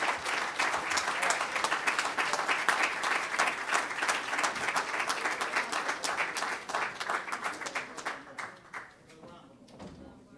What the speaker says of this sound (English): Let's give them a thunderous, warm round of applause.